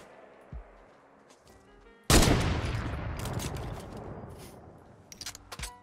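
Gunfire in the Fortnite video game, a loud sudden burst of shots followed by a dense stretch of rapid firing and a few sharper cracks near the end, with no talk over it.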